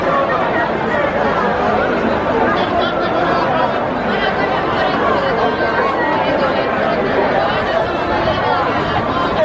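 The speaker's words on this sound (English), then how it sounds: "We're in all of that crowd right now." Dense crowd chatter fills Shibuya, Tokyo on New Year's Eve as people wait for the countdown: a steady, loud babble of many overlapping voices with occasional laughter, close and continuous throughout.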